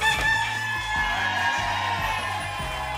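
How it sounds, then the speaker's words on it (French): A rooster in a TV game show studio lets out a repeated crowing call over a steady background hum, the calls coming in several separate bursts. "comme si vous aviez le feeling que le coq allait s'exclamer dans notre studio"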